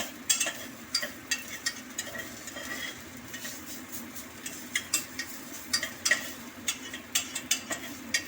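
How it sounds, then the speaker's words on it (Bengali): A spatula scrapes and taps rhythmically in a pan as ginger is stirred and lightly fried for a bottle gourd shukto, with a steady faint sizzle under the repeated clinks. "আদাটা দেওয়ার পর আমি একটু নাড়াচাড়া করে নেব। আদাটাকে একটু হালকা ফ্রাই করে নেব।"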